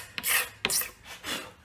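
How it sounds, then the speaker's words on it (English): Several short, rasping strokes of sandpaper rubbing back and forth as paint is sanded off a guitar neck, close up and moderately loud. "basically just sanding paint instead of sanding wood."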